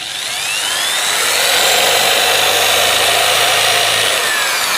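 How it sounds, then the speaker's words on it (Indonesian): A small electric drill bores a hole, running at a loud, steady high whir with a rising tone at the start that then holds evenly to the end. "Ini bor yang kecil. Nah, apakah dia bisa mengebor dengan adanya kapasitor ini?"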